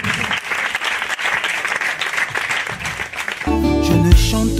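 A church congregation claps and cheers in acclaim of the Lord, a lively crowd applause for several seconds before organ or keyboard music swells in near the end.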